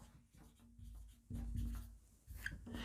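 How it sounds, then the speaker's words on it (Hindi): A pen scratching across paper while notes are written during a lecture on Rajasthan art and culture, steady close scribbling strokes with a low hum beneath and no talking. "लिख लेते हैं"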